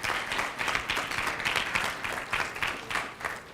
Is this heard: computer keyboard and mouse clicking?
no